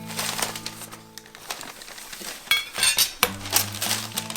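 Metal GrillGrate grill grates for a Weber 26-inch kettle lifted from their packing, giving scattered metallic clinks and clanks with rustling handling noise, louder bursts near the end.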